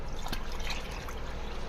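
Water trickles and pours over soaking rice for idli batter, a brief, moderately quiet splashing stream about two seconds long with no voices.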